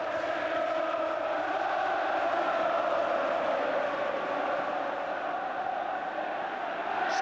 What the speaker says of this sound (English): And listen now to the Old Trafford crowd